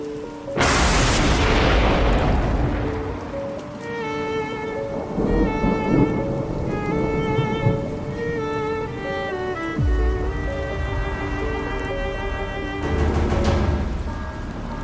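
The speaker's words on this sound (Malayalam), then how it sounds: "മഴ നല്ല ഉറയ്ക്കുന്നുണ്ട്" Heavy rain pours steadily while loud thunder cracks and booms nearby, with a sharp crash at the start and another rumble near the end.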